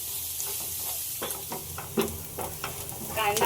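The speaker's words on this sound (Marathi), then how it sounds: "आता हे आपण कांदा मिरची चांगलं परतून घेऊया कांदा लाल होईस्तवर" Onion and green chilli frying in a pan, a close sizzle broken by repeated scraping strokes of a spatula that grow livelier toward the end, with no voices.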